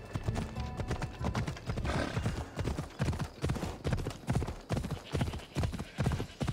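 Rhythmic clip-clop of a horse's hooves at a steady riding gait, close and loud, continuing throughout over faint ambient game sound in Assassin's Creed Odyssey.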